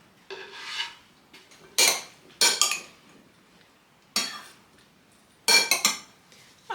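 A tomato and cucumber salad with olive oil, salt and croutons gets tossed in a bowl: five separate bursts of clattering utensil scrapes, close and fairly loud, with quiet gaps in between.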